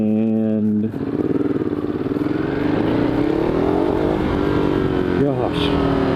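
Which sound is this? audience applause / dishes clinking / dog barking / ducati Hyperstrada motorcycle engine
ducati Hyperstrada motorcycle engine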